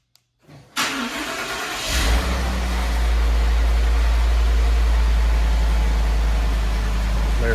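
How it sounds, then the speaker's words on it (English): A 2014 Ford F150 5.0 V8, a wrecked Super Crew cab, remote starting: silence and a click, a brief crank, then the engine catches with a rising rev and settles into a loud, steady, deep idle up close. "we got to press the lock button and then press the remote start button twice"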